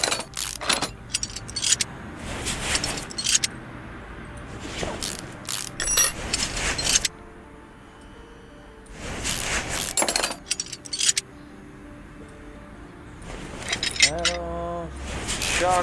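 In Car Mechanic Simulator 2018, the shock and knuckle come off a military Jeep Willys with jangling, clinking metallic part sounds in scattered bursts. A voice talks over the clicks and clatter, which are separated by quieter gaps.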